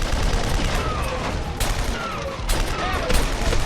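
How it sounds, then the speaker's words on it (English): A rotary cannon in the video game True Crime: New York City fires continuous rapid bursts, dense and loud, with sharper blasts punctuating the sustained roar. "the rotary cannon."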